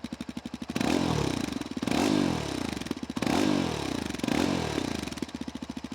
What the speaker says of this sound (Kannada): ವಿಡಿಯೋ ಕ್ಲೋಸ್ ಮಾಡೋಕ್ಕೂ ಮುಂಚೆ ಎಕ್ಸಾಸ್ಟ್ ನೋಟ್ನ ಕೇಳಿಸ್ಕೋಣ